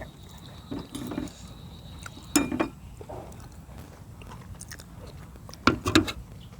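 Someone chews crispy fried fish close up, with three clusters of crunchy bites separated by quieter stretches of soft chewing and faint background noise.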